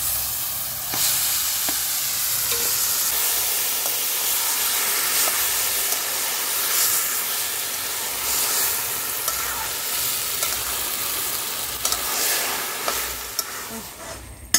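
Taro greens fry in a pan under a continuous close sizzle and hiss, with occasional scraping and clattering as they are stirred. Voices are absent.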